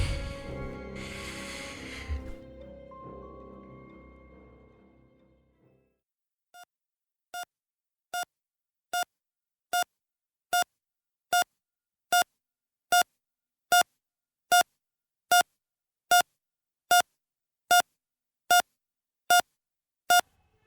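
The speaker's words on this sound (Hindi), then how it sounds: "मेरे आसपास जैसे सैकड़ों बीप की आवाज गूंज रही थी।" A dense burst of overlapping electronic tones gives way to a regular series of sharp, identical beeps, evenly spaced and growing steadily louder, like a monitor pulsing in an otherwise silent space in an audio drama.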